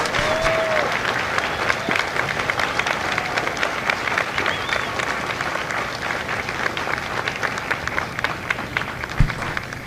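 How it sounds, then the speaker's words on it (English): Loud, sustained audience applause fills a hall at a Bravo Company Marine recruit graduation at MCRD San Diego, a dense wash of many hands clapping at once without pause for about ten seconds. "a round of applause for their dedicated service to Corps and country."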